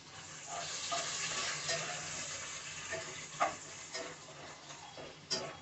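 Long-cut onion slices fry in a cup of oil for chicken biryani, making a moderate, continuous sizzle and crackle with a few brief sharper pops and stirring clicks. No one speaks.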